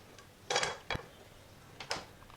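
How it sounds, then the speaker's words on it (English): Spatula scraping and tapping against a pan while lifting out an egg omelette for a dhaba-style omelette curry: a few short metallic scrapes and clinks in a quiet kitchen, with no talking. "now guys, it's time for us to remove our omelette"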